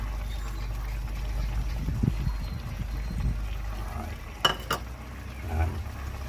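A pot of broth with mussels and sweet potato boils on the stove, giving a steady bubbling hiss and low rumble, with stirring and a couple of sharp clinks of a utensil against the pot partway through.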